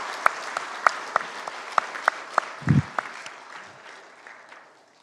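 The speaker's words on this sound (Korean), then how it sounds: "큰 박수로 격려해 주시기 바라겠습니다" Congregation applause during an intergenerational church worship service, made up of sparse, evenly spaced claps with a low thump midway that taper off and fade into quiet.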